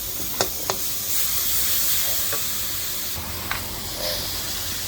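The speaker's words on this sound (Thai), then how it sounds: "ผัดไปเรื่อยๆครับ ผัดจนกว่าหอมๆครับผม" Sizzling and hissing from a pan as aromatics, blended paste and herbs for a Thai chicken stir-fry are stirred over heat, with occasional sharp spatula clicks against the pan, steady and close.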